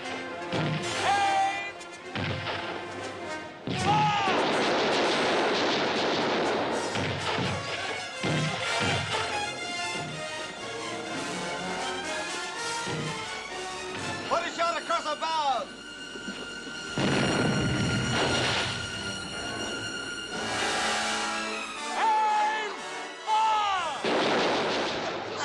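Period film battle scene with musket and cannon fire among dragoons: repeated loud gunshots and booming blasts, with shouted voices and orchestral music running throughout.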